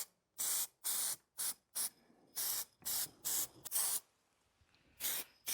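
Black spray paint hisses from an aerosol can in about ten short, evenly spaced bursts, each a crisp close spray with brief silences between; no talking.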